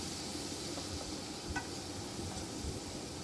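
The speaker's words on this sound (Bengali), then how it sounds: "এরপর 2-3 মিনিট আমি মশলাটা ভালো করে কষিয়ে নিচ্ছি" Masala with ginger-garlic paste sizzles steadily in a pan as it is fried for ghugni, a soft continuous hiss with a few faint stirring scrapes.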